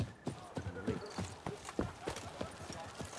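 Horse hooves clip-clop at a steady walking rhythm in The Witcher 3, close and clear under faint game ambience, with no talking.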